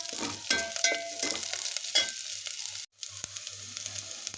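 Ginger and tomatoes sautéing in a pan for tomato soup, a close sizzle with intermittent stirring scrapes and clinks, a brief gap, then the frying hiss continues.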